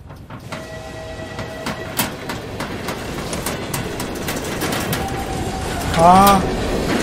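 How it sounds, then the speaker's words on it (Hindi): A train rolls along its rails with a steady rumbling clatter and scattered metallic clicks, followed by a brief whistle-like squeal near the end, while voices talk faintly in the background. "हाँ ट्रेन गाड़ी चली"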